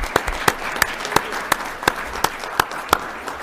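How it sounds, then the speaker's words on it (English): Sparse audience applause at an election hearing, a handful of distinct hand claps spaced through a steady room murmur, moderately close. "I first want to just ask everybody to give a round of applause to everybody who spoke and testified today"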